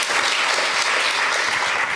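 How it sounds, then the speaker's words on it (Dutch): A live audience at a Dutch literary talk event bursts into sustained applause, steady dense clapping filling the room for the whole stretch with no voices over it. "Dus jullie mogen hier wel even klappen."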